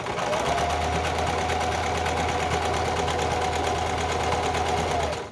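An older sewing machine runs steadily, stitching along fabric with a close, loud, continuous mechanical whir and rapid needle chatter, unbroken for the whole stretch with no talking.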